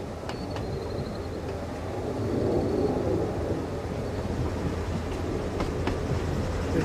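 A train rolls past near a pitch-and-putt golf course in Austin, Texas, a steady low rumble with faint rail clatter that swells slightly midway and holds, no voices.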